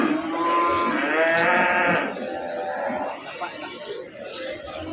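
Large cattle moo in long, drawn-out calls at the Payakumbuh livestock market in West Sumatra, where cows are sold for qurban sacrifice. Nearby voices chatter and market crowd noise fills the background.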